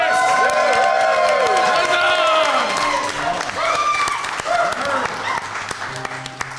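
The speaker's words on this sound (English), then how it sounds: "Let's say a round of applause, everybody." At a live Pirate Borg tabletop game session at NecronomiCon 2024, an audience bursts into loud applause with cheers and whoops, while voices and tonal sounds ride over the clapping before it gradually thins.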